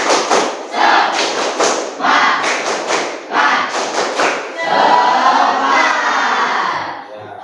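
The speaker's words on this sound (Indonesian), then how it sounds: "Tepuk semangat." Classroom of students stands and performs a rhythmic spirit clap, bursts of loud synchronized claps and thumps in a patterned sequence, followed by voices shouting together in unison.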